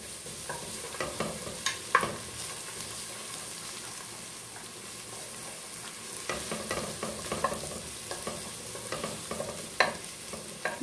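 Garlic and chili stir-frying in a pan for macaroni with ground beef: a continuous bright sizzle with clustered bursts of spatula scraping and clatter, near and fairly loud, without any voices.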